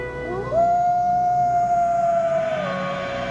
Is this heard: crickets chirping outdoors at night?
no